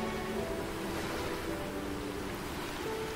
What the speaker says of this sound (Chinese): 海浪拍打礁石的声音没有规律